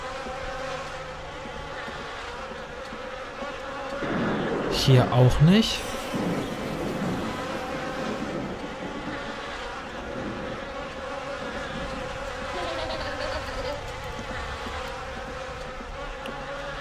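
Constant fly buzzing fills a scene in The Nightfall video game, a close, unbroken drone with a brief louder rumbling burst early on. Someone says a few words over it.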